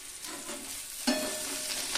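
Potatoes stir-frying in sunflower oil in a pan, a steady close sizzle with soft scraping stirs and a brief louder burst partway through.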